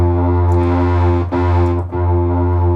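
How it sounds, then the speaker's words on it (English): Moog Subsequent synthesizer played through an HX1 effects pedal with distortion and chorus: a loud, sustained, buzzing harmonic-rich tone, held steady with two brief dips in the middle, no voices. "It's just an HX1, so I can just add distortion or like a chorus or whatever."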